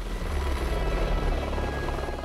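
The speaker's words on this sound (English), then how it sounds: "the helicopter can't land, so we have to jump out while it is hovering" A helicopter hovers near a mountain summit, its rotor and engine giving a loud, steady, unbroken roar that holds at close range for the whole stretch, with no voices over it.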